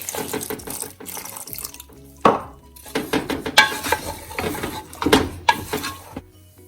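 About a glass of water is poured into a pressure cooker holding lamb curry seasoned with salt, chili and turmeric. The splashing and trickling mix with intermittent clinks and knocks of utensils against the pot, heard close up.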